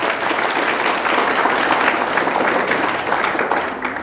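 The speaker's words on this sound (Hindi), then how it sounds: "ताली बजाओ सब" An audience at a lecture about Uttarakhand claps steadily and fairly loudly, a dense wash of applause that holds evenly throughout without any speech on top.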